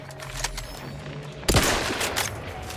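Gunfire in the video game The Outer Worlds 2: a sharp loud shot at mid-clip that rings out with a lingering tail, over low game ambience, with an earlier quieter crack.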